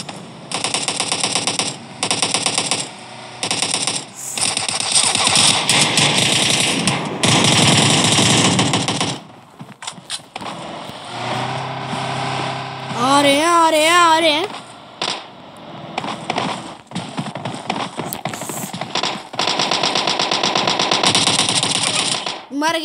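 Automatic gunfire in the mobile game PUBG Mobile Lite comes in long loud bursts that stop and start, with other game sounds, tonal effects and chatter in between.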